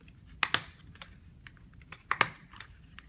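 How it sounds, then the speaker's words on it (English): A stapler clamping paper together for a children's craft, two paired sharp clacks about a second and a half apart, close and clear with quiet handling noise between. "we need to staple that together"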